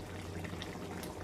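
Cooking oil poured into a frying pan while making tomato pickle, a soft steady liquid pour with faint hissing, quiet and continuous for about a second with no voices.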